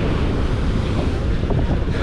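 Stormy sea surf pounds continuously with strong wind buffeting the microphone, a loud, dense roar of breaking waves near rocky cliffs on a Thai coast in winter weather, with no voices.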